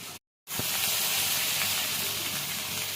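Hilsa fish pieces dropped into hot oil in a pan for a Jessore-style fish curry sizzle with a steady, bright hiss after a brief silent gap, close and fairly loud, with a small pop as frying begins.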